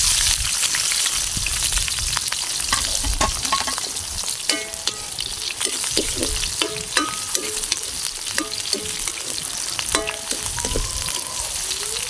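Garlic and onion fry in a pan for adobo chicken, a steady dense sizzle with frequent crackling pops and occasional stirring scrapes, loud and close throughout.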